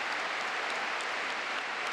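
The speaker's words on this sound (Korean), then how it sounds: "뜨거운 환호가 이어졌다." Huge stadium crowd of 150,000 citizens at the Rungrado May Day Stadium in Pyongyang cheering and applauding, a dense, steady wash of clapping and roaring at a distance.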